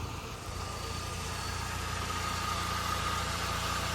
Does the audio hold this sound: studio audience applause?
no